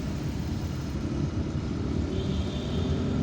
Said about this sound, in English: Is the traffic jam easing?